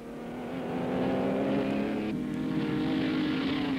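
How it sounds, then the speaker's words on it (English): Vintage race cars at the 1960 Bathurst 100 Easter meeting roar along pit straight toward Hell Corner, a loud, steady engine drone that holds throughout with a slight shift in pitch midway. "Jack Myers takes the corner and the two leaders speed along pit straight to approach the left-hand turn at Hell Corner"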